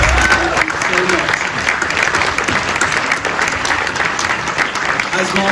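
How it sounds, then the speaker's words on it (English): Sustained applause from an audience at a community radio awards ceremony, dense and steady clapping filling the whole stretch at close range, with faint voices mixed underneath. "Can we get a round of applause for the audience?"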